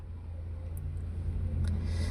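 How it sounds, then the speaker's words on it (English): Steady low motor hum of a Sharp washing machine spinning while its pull starter, whose inner gear teeth have worn away, stays still; a continuous even drone, close and moderately loud, with no voices. "Motor is spinning, but this pull starter is not spinning."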